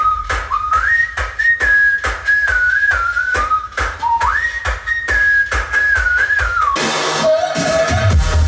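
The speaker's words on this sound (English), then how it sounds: "the contrast of the aggressive drops with the super catchy whistling" Catchy whistled melody from an EDM track, a bright looping tune over punchy rhythmic beats, loud and upfront, giving way near the end to a denser, heavier musical section.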